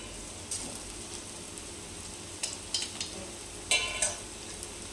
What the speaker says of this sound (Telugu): ఇప్పుడు వీటిని మగ్గనిద్దాం మూత పెట్టుకుందాం